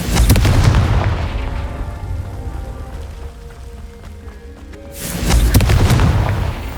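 Confringo spell blasts in the video game Hogwarts Legacy: a loud booming explosion with crackling debris that fades over a few seconds, then a second heavy blast erupts near the end.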